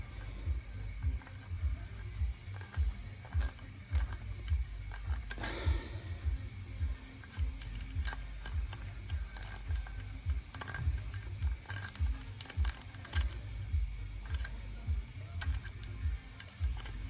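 A Helicoil installer tool threads an insert into a stripped oil pan drain hole, giving a quiet, steady series of ratcheting clicks and mechanical ticks repeating close up for the whole stretch.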